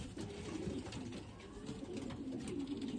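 Dark system young racing pigeons cooing in a loft, soft low coos repeating steadily over a constant background hum, moderately close.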